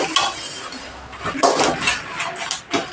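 Curry leaves roasting in a pan for idli podi, with a spoon stirring and clinking against the metal in irregular scrapes and taps, close and moderately loud.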